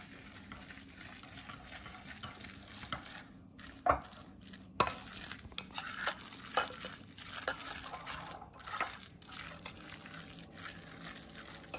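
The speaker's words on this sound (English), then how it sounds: "I love the sound that makes when you mix it." Homemade tuna salad being mixed with mayonnaise, soft wet squelching and clicky utensil scrapes close by, quiet overall with a few sharper knocks and irregular stirring strokes spread across the stretch.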